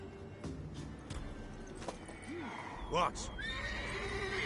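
A horse in the video game Witcher 3 neighs loudly with a rising and falling whinny, alongside hooves clip-clopping, while voices speak over it.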